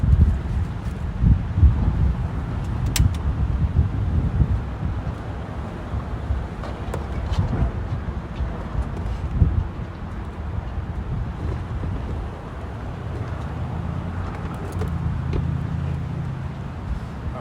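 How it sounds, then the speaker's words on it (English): Strong gusty wind outdoors buffeting the microphone with heavy low rumble that surges and eases throughout, no talking. "It is super windy today"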